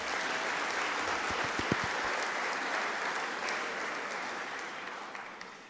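A large hall audience applauding graduates at a Melbourne Polytechnic graduation night, a sustained, even roar of many hands that fades slightly toward the end, with no speech over it.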